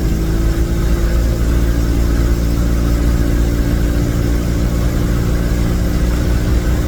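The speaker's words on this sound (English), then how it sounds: "so you can hear the engine RPMs a little higher than it has been in the last 2 landings here" A loud, steady light aircraft engine drone at raised RPM holds at a constant high pitch throughout, continuous and close, with no talking.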